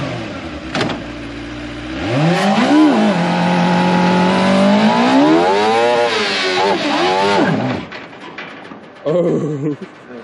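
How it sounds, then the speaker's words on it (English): A pickup truck's engine revs hard during a burnout attempt, loud and close. The revs surge upward, dip and climb again in long sweeping pulls, then cut out near the end, followed by a brief final blip. "I can't even do a good burnout."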